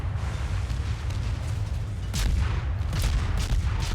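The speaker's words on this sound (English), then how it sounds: "there is another ship shooting him" Naval gunfire from a warship in World of Warships, heavy booming salvos landing in bursts over a constant low rumble of engine and sea, loud and close with no talk.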